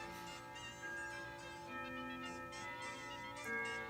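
A clock chime rings out in a sustained, resonant tone with overlapping bell harmonics, steady and fairly close, with no voices.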